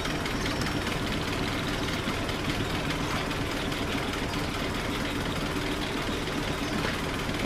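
A boat engine chugs steadily at moderate distance as the boat passes, a constant mid-low mechanical drone with a knocking, idling texture and no clear rise or fall.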